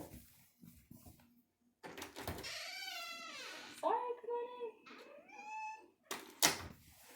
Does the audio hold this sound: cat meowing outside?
yes